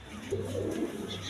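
Pigeons for sale cooing nearby, a short low, soft coo under faint background noise.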